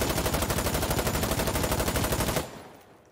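Rapid automatic gunfire from a weapon in Insurgency: Sandstorm, a loud unbroken burst of evenly spaced shots lasting over two seconds before cutting off into a fading echo.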